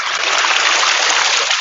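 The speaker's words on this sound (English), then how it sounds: "Gravity takes over, the water comes out just that fast." Water gushes steadily out of an upside-down water bag, a loud, close, continuous rushing pour that holds constant from start to finish, with no voices.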